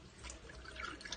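Water runs and splashes from a tap as cyanotype print paper is rinsed to clear yellow residue, a steady close trickle with small spattering drips, no talk.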